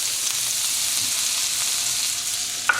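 Chilies and garlic spit and sizzle in a hot pan during a sweet potato lamb stir fry, a steady close crackle with one sharp pop near the end.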